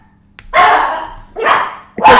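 A dog barks loudly and close by, three sharp barks spaced unevenly across a couple of seconds in an otherwise quiet indoor room.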